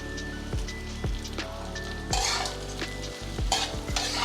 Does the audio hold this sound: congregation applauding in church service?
no